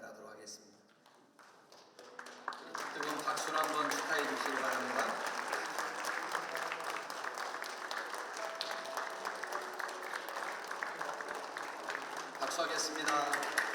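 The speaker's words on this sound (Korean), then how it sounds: "뜨거운 박수로 한번" Audience applause at a Korean church federation ceremony inaugurating a pastor as the 19th general assembly president, a bouquet being presented; after a quieter start, steady dense clapping rises and continues evenly under occasional voices.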